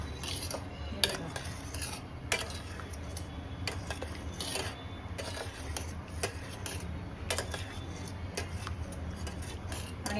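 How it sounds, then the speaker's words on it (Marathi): Boiled dal lentils being mashed in a pot for Gujarati dal dhokli, with steady soft stirring and scraping plus scattered light clinks of a utensil against metal, close and continuous throughout. "आता ही आपली डाळ छान उकडलेली आहे। आपण आता ही मॅश करून घेऊया।"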